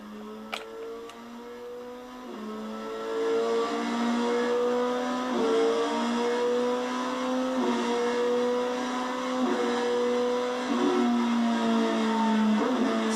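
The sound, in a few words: Yamaha R3 motorcycle upshifting with quick shifter, throttle held open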